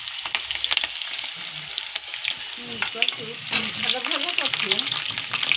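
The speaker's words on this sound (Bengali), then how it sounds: "প্রথমে তেলে দিয়েছে, কী দিয়েছিস বল? রসুন আর কাঁচা লঙ্কা দিয়ে দিয়েছে।" Garlic and green chillies sizzle steadily in hot oil, a loud close crackle with occasional stirring scrapes, while voices talk faintly in the background.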